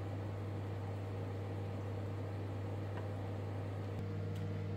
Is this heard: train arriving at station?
no